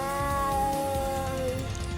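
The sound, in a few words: cat meowing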